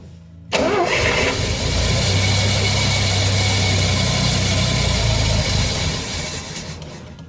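Engine cranked with a remote starter, catching abruptly and running loud and steady for about five seconds before winding down, close up with no talk, while testing a fuel pump and filter.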